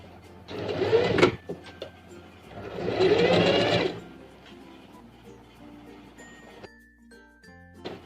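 Sewing machine stitching a seam on a modern baju kurung garment, two separate bursts of fast mechanical whirring, each about a second long, with quiet pauses and small clicks between.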